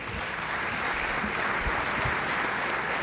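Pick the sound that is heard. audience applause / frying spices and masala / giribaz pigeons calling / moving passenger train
audience applause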